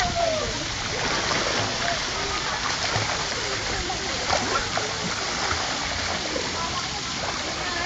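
A child swims and splashes in water, with steady splashing and sloshing throughout and people talking nearby.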